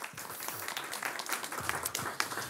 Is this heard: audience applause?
yes